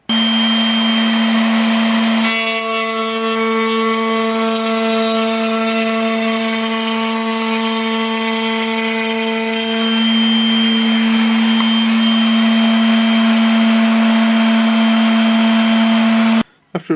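A straight router bit cuts the raised panel of a wooden four-panel door, a loud, high motor whine that rises into a harsher cutting tone for several seconds, then drops back to steady spinning before stopping.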